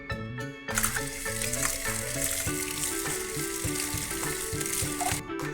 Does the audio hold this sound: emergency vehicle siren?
no